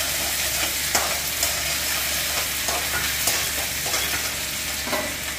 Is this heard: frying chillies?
yes